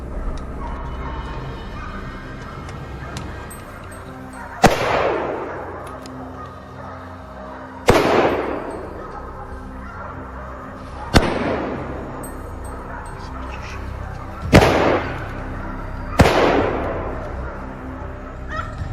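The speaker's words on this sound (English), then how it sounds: "I shot and killed it" Gunshots during a wild boar hunt: five loud, sharp blasts spaced a few seconds apart, each ringing out with a long echoing decay outdoors.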